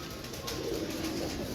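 Pigeons kept by a fancier in a loft, giving a soft, low cooing that is fairly faint against background hiss, with no voices.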